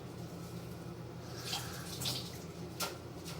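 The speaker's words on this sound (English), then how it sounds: "But I still wash it off even when I get these well prepared and covered cucumbers." A cucumber washed under running tap water while making a salad, a quiet steady stream with a few brief splashes as it is turned under the flow.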